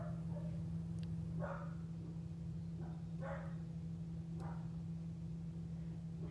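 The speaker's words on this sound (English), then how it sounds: "You could hear her barking." A pet dog that has just had a bath barks in another room, a few faint, distant yips over a steady low electrical hum.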